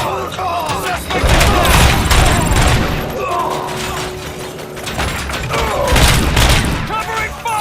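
Covering gunfire during a bank heist in the video game Robocop Rogue City, dense loud bursts of shots and booms with mechanical clatter throughout, mixed with shouted voices.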